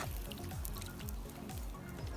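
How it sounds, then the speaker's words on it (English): About 250 millilitres of water poured over chicken kebabs to stew, a close, steady splashing pour with a gurgling, rhythmic trickle and no talking. "I'm going to go in with about 250 mils"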